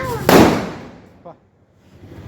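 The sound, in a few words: Diwali firecracker exploding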